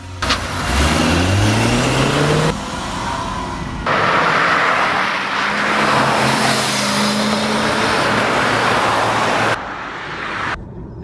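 A BMW i3 electric car accelerates hard, giving a rising whine and road rush that sweeps upward, drops, then builds again in a loud, continuous run with no talk.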